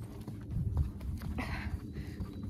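Muffled hoofbeats of a horse thud steadily at close range, with a low rumble of movement and some wind-like noise.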